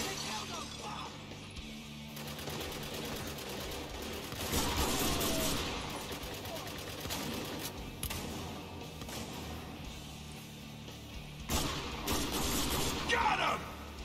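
Rifle shots crack out during a firefight in Spec Ops: The Line, with loud bursts and shattering impacts standing out from a continuous noisy game mix, a few of them grouped close together.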